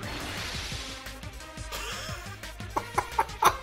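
Short chicken clucks from the DanganRonpa 2 video game, a quick rising series of squawky bursts near the end over steady game music.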